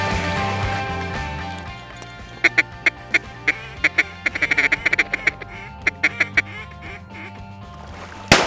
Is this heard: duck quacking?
yes